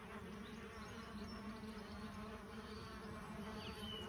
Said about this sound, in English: there's a beehive, there's honeybees, they're crazy